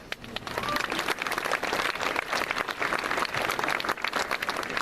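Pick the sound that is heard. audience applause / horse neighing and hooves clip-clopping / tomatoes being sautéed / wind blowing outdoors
audience applause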